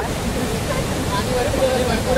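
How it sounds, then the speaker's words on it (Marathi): Waterfall at Dhutpapeshwar temple near Rajapur, heard as a steady broadband rush of falling water that runs unbroken and fairly loud for the whole stretch, with no clear talk over it. "हे बघा पाणी भरपूर आहे एकदम धबधब्यावर"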